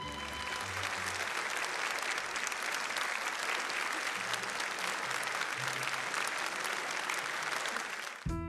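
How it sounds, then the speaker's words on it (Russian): Sustained audience applause fills a concert hall after a song, a dense, steady wash of clapping from a large crowd that continues loudly and evenly before cutting off abruptly near the end. "Зрители стали хлопать еще громче."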